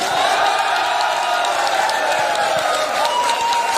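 A crowd at an agriculture products training session cheers and claps continuously, dense applause filling the room with some whoops mixed in, loud and steady throughout.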